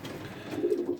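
Pigeon cocks in a loft cooing excitedly as new birds are introduced, a short burst of low, throaty coos close by.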